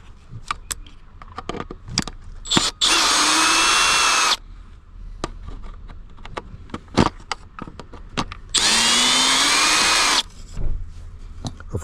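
A power drill fitted with a CRV-T15 bit unscrews a Ford Explorer rear console, whirring loudly in two sustained bursts of about two seconds each, separated by clicks, handling knocks and light rattles close by.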